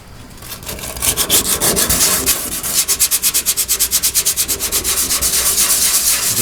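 Hand sanding on a car body to feather out rust, a loud scratchy rubbing that settles into a quick, even back-and-forth stroke rhythm, close up, with no voices.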